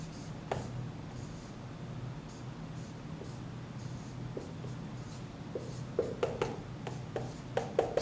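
Chalk or a marker scratches across a lecture board while a chemical structure is drawn, faint and steady at first, then sharper taps and strokes cluster toward the end.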